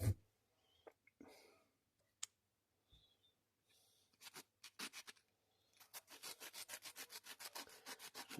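Sandpaper rubbed by hand over small internal parts of a Pietta 1861 Navy percussion revolver, heard as scattered scrapes early on, then a close, steady run of rhythmic back-and-forth strokes near the end.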